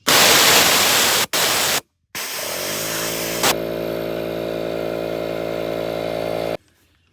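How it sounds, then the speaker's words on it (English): An air compressor's emergency pressure release valve pops open and vents air in a loud, steady hiss that runs for several seconds with a constant tone, after short bursts of rushing air, then cuts off. "If the compressor doesn't stop or it gets too much pressure, this pops out, starts letting air out."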